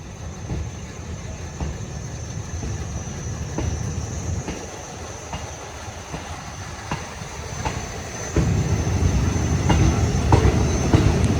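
Passenger train 445 rolls along the rails between Lang Suan and Surat Thani, a steady rumbling ride with rhythmic wheel clacks that grows louder near the end, heard from inside the carriage.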